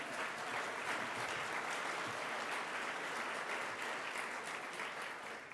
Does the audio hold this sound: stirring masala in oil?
no